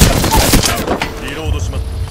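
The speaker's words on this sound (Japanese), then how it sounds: "グレネードを投げます" In Apex Legends, a grenade goes off with a loud, close boom and crackling burst at the start, trailing into rumbling gunfire-like sounds, while a voice speaks briefly.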